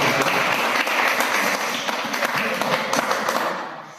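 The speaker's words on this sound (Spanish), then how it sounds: "Tenemos un aplauso así." A room full of people applauding at a talk, thick continuous clapping at fairly high level that tapers off near the end, a faint murmur of voices mixed in.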